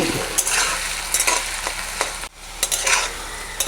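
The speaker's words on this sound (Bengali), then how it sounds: "আলুগুলো ভাজা হয়ে গেছে" Potatoes fry in oil, making a loud, dense, continuous sizzle close by with scattered sharp crackles and a few clinks of stirring. There is a brief dip in the middle.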